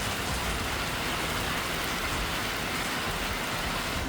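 Heavy monsoon rain in India pours down as a dense, unbroken hiss, loud and close throughout, with no voices or other distinct sounds breaking through.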